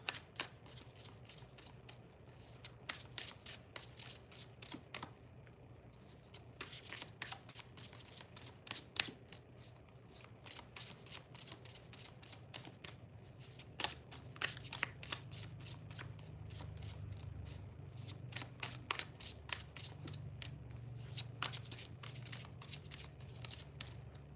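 Tarot cards shuffled and handled during a live reading, a long run of crisp riffling flutters and soft slaps repeating close up, with a steady low hum underneath and no talking.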